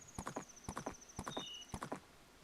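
Epona, the horse in the video game Majora's Mask, trots with regular clip-clop hoofbeats and gives a high neigh midway, set over a steady in-game tone.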